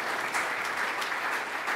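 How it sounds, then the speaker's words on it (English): Soft, steady applause from a conference audience after a panel, a continuous wash of many hands clapping at a distance with no voices on top. "Can I get a round of applause for Doug,"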